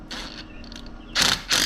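An impact wrench tightens a bolt on a Mantus M1 anchor with a Mantus S1 swivel, giving short rattling bursts: two brief ones early, then two louder, sharper bursts close up near the end.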